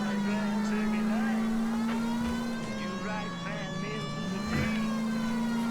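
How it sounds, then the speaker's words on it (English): A continuous wailing police siren in the video game L.A. Noire rises and dips in pitch over a low engine hum, loud and close, with a voice talking over it. "Using my siren to get past lights."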